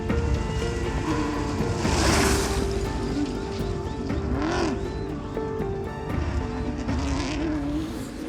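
A rally car pushed hard along a rough mountain stage, its engine roaring steadily with heavy broadband road and gravel noise, loud and continuous throughout with no voices.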